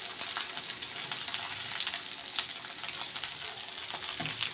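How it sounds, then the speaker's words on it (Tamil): Spices, garlic and lentils dry-roasting in a pan for pepper powder give a steady, close crackling sizzle with a few soft stirring scrapes, heard alone without talk. "இந்த மிளகுத்தூள் அரைக்கிறதுக்கு தான் எல்லாமே எடுத்து வறுத்துட்டு இருந்தேன்."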